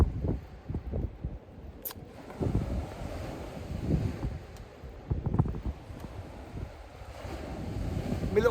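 Wind buffets a microphone on a seashore during fishing, a continuous low rumbling roar that swells and eases, with faint surf underneath and one brief sharp knock, loud and close with no speech.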